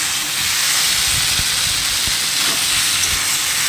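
Fish pieces fry with onion and spice paste in a hot pan, giving a loud, steady, close-up hiss of sizzling oil with no pauses.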